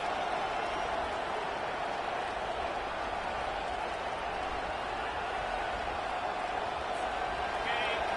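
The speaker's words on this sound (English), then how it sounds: "This crowd rising up, sensing that its defense needs some help." A football stadium crowd at a Michigan Wolverines versus Penn State game roars steadily, a dense continuous wall of cheering with no breaks.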